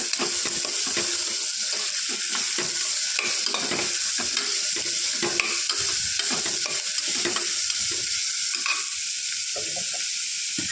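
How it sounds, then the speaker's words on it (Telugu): Sliced onions and dried shrimp sizzle steadily in a pan, with frequent stirring scrapes and clinks over a continuous close frying hiss, no talking. "ఎండు రొయ్యలు వేగాక దాంట్లోంచి తీయకుండానే ఆనియన్స్ వేసేసుకోవాలి."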